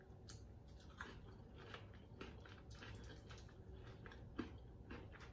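Crunchy fried chicken wings in a spicy dark red Asian zing sauce are bitten and chewed up close, with faint repeated crisp crunches over quiet room tone.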